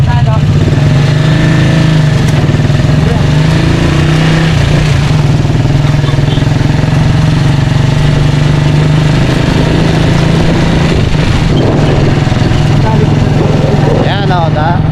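A motorcycle engine hums steadily while riding through traffic, close and loud throughout.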